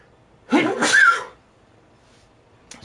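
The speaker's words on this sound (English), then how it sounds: "Sneeze." A single human sneeze, loud and close, with a short breathy wind-up and sharp burst, followed by quiet; a faint click comes near the end.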